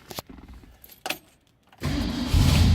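Keys jingle and click twice, then a 1965 Ford Mustang Fastback engine cranks and catches abruptly, settling into a loud, rumbling choked idle that swells slightly.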